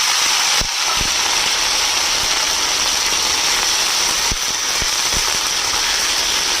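Strips of cut ridge gourd hit hot oil in a pan with a loud, steady sizzle and hiss, broken by several sharp crackles and pops, and nobody speaks.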